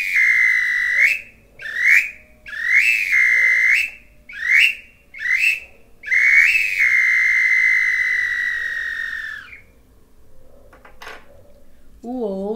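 A wooden whistle sounds in a run of short, bright blasts, then one long sustained tone that fades out, with a few quiet knocks afterward.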